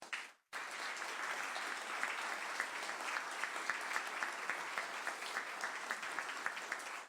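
Warm audience applause at a book launch for a constitutional law text, a dense steady patter of many hands clapping that starts abruptly after a brief silence and carries on evenly throughout.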